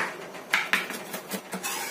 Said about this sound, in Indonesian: Bawang putihnya ini kita cincang halus supaya aromanya itu lebih kuat